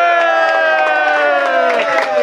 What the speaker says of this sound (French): Les applaudissements, mesdames, messieurs.